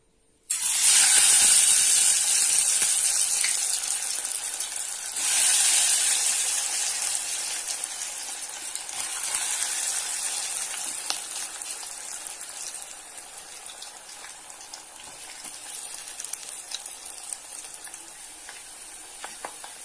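Potato fries dropped into hot oil sizzle and hiss loudly and steadily for the whole stretch, a dense bubbling frying sound close by that eases slightly over time, with no talk.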